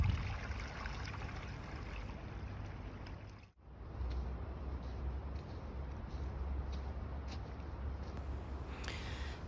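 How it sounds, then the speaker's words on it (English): A river on the Tourujoki nature trail, running higher at this point, flows with a steady broadband rush that holds constant throughout, with one brief dip partway through. "And in this part of the river, the water is higher"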